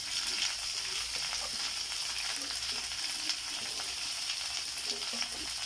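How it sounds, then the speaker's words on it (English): String beans sauté in hot oil for Filipino adobong sitaw, giving a steady close sizzle with occasional stirring scrapes and no talk. "I like to saute it before adding the soy sauce and the other ingredients."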